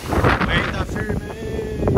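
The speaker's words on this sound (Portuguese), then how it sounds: "Venta firme!" Strong typhoon wind buffets a parked motorhome, a loud, continuous gusty roar with broadband rushing and some microphone wind noise throughout.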